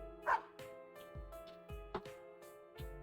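A white dog named Snowy barking in a tabletop role-play session, several short sharp barks and yips in quick succession, close and fairly quiet over a faint background hum.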